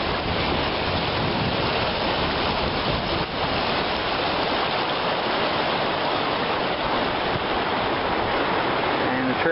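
Randall Creek runs near the ocean at the end of the high tide zone on California's Lost Coast, a steady, close, unbroken rush of flowing water with no pauses.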